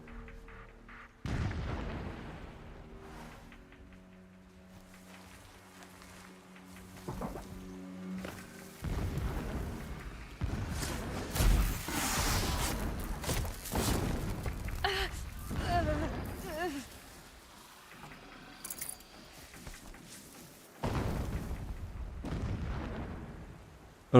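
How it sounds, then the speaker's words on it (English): Distant explosions rumble in the video game Horizon Zero Dawn Remastered, several low booms spread across the scene under intermittent game sounds and talk. "Explosions in the distance."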